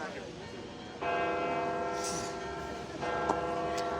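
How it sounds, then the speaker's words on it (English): Church bells ring on Palm Sunday, loud resonant peals that start and then swell again as new strikes come in, sustained tones layered under a voice speaking nearby. "oh, here's the bells"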